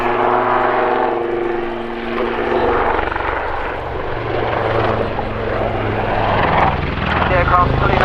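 A Royal Navy Wildcat helicopter flies a display at the RAF Cosford air show, its loud rotor and turbine droning continuously up close with pulsing blade chop, while a commentator speaks over the noise.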